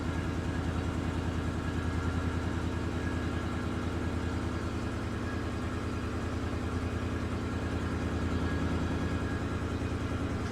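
A 5.3L V8 fitted with an L86 air intake and a ZR1 throttle body idles steadily and alone, a loud, even low rumble with a fine rapid pulse that holds constant throughout.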